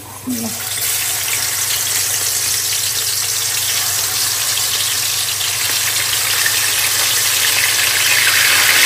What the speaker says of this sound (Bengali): এখানে মাছ ভাজতেছি